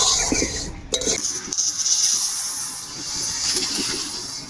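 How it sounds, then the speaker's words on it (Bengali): Fried mung dal is tipped out of a metal cooking pan in a home kitchen, with a sharp clink of utensil against pan at the start, then a soft sizzling hiss and light rustle of the lentils. "আমার মুগ ডাল ভাজা হয়ে গেলে ঢালি নিব"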